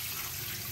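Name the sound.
pouring water into pot of chicken feet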